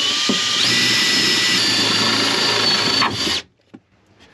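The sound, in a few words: power drill with HSS drill bit drilling hole in van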